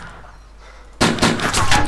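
Video game gunfire bursts in abruptly about halfway through after a quiet stretch, then continues as loud, dense, rapid shots to the end with no talk over it.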